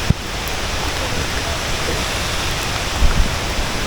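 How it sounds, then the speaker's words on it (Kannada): The Sirimane waterfall near Sringeri in the monsoon crashes in a dense, continuous roar of falling water, loud and close, with no break in the steady rush. "ವಾಟರ್ ಫಾಲ್ಸ್ ಬೀಳ್ತಾ ಇರೋ ಸೌಂಡ್ಗೆ ನಾನು ವಾಯ್ಸ್ ಕೇಳಿಸಲ್ಲ"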